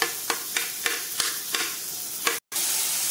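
Spices and chopped green chillies frying in oil in a pan, a steady close sizzle broken by several rhythmic spatula strokes as they are stirred, with one very brief dropout near the end.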